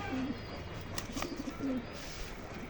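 Young pigeons give low, soft coos close by, a short call at the start and then a rapid trembling series of coos, over a steady background hiss.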